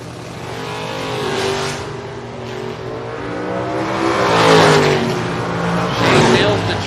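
A 1970s Chevrolet Nova and a Camaro at a drag strip roar in loud, rising engine bursts as they launch and pull away, with an announcer talking over the racing noise.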